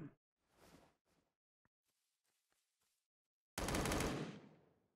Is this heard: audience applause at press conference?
no